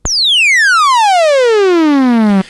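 A loud modular synthesizer tone sweeps smoothly downward from a high pitch to a low buzz over about two seconds, then cuts off abruptly.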